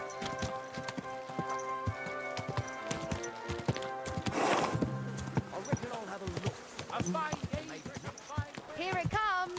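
Horse hooves clip-clop steadily with a neigh partway through in the medieval video game Kingdom Come Deliverance 2, mixed with in-game music and ambience at moderate volume, no talk.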